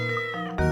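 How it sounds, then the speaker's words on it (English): A cat meows in Professor Layton and the Curious Village, a short, clear, close mew with tonal harmonics, sounding on its own with no talk over it. "What's this cat doing here?"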